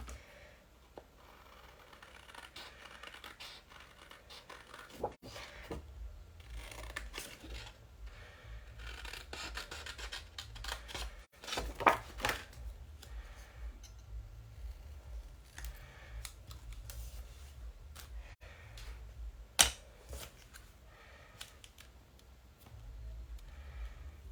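Scissors cut out a paper card sentiment during card making, giving soft, close snips and rustles of paper that come in irregular bursts at low volume, with no talking.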